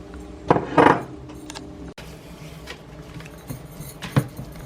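Dry rub spices and all-purpose flour mixed in a bowl with a utensil, giving a few close clinks and scrapes between quieter stretches of handling.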